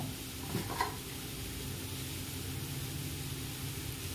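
Carrot and beetroot poriyal sautés in a pan with a quiet, even hiss of frying, a brief utensil scrape early on, and a faint low hum beneath.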